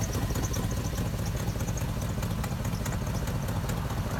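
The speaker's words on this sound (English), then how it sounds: "as you can hear, it does have an exhaust leak on the manifold" Idling engine of a 2004 Silverado dump truck with a broken front bolt causing an exhaust leak at the manifold, a steady rapid ticking clatter running evenly throughout at close range.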